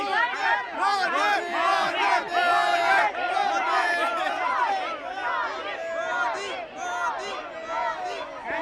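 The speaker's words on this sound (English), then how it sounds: "there you see people are cheering" A dense crowd at an election rally cheers and chants in rhythmic shouts, a loud, continuous wall of many voices close by with no pause across the whole stretch.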